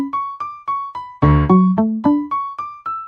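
A hip-hop style beat plays in FL Studio: evenly spaced plucked piano notes, interrupted once by a dense, booming chord hit, then a short run of stepping notes before the steady plucks resume.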